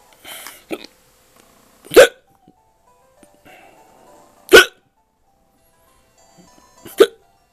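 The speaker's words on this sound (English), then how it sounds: "sometimes I can't control my hiccups" Three sharp, loud hiccups spaced a couple of seconds apart, each a sudden close gulp with quiet gaps and faint rustling between them.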